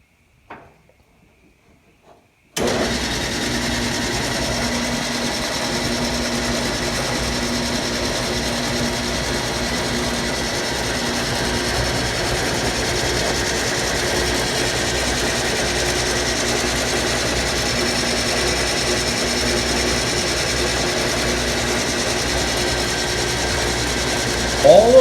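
An antique early Wayne 40 gas pump switches on after a brief click and runs with a smooth, steady mechanical whir and rhythmic gear ticking, loud and close, continuing without pause.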